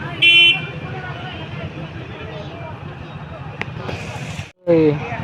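A car on a busy temple road during the Ganganamma festival gives two short horn honks, one at the start and one near the end. A close voice talks over steady traffic noise.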